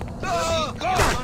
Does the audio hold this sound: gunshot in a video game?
yes